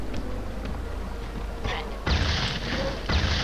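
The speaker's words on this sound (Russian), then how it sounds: "Не такой эпичный взрыв, как я хотел" Dynamite explosion in the video game Angry Birds Star Wars 2, a muffled boom with broadband crashing noise that hits abruptly, settles briefly, then swells again over a continuous game soundtrack.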